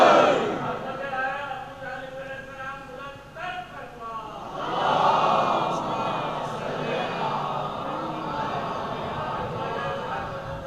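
A crowd at a majlis marking the martyrdom of Imam Zain ul Abidin in an imambargah chants religious slogans in loud, rising collective shouts, starting strong, dipping, then swelling again in a sustained reverberant roar.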